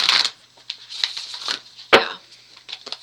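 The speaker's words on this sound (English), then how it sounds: "I'll give it one more good shuffle." Tarot cards are shuffled by hand in quick irregular bursts of papery riffling and slapping, close up, with small pauses between the flurries.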